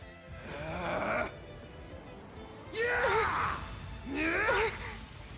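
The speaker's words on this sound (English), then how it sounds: "I just hear her literally panting" Altina, a character in The Legend of Heroes: Trails of Cold Steel III, lets out three strained, breathy vocal gasps spaced a couple of seconds apart, faint under quiet game background sound.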